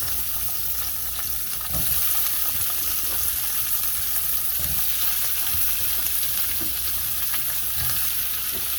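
Chicken stir-fried with broccoli and other vegetables in a pan, a steady broadband sizzle lasting throughout with a few faint scrapes of stirring, close and continuous, no voices.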